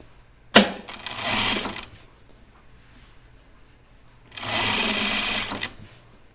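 A sewing machine stitches down a flat fell seam on a men's button-up shirt, a sharp thump followed by two separate bursts of steady whirring, each lasting about a second and a half, with a quiet pause between them.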